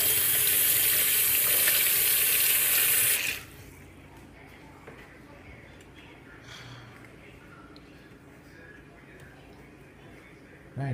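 Tap water runs into a kitchen sink as hands are washed after preparing baked chicken. There are about three seconds of steady, close splashing, then the tap stops and only quiet room noise and faint handling sounds remain.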